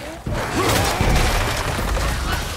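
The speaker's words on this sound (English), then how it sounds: "That was an explosion from my abilities." An explosion from a player's combat abilities in the game God of War: a sharp crash hits, then a shattering, rumbling burst sustains for a couple of seconds.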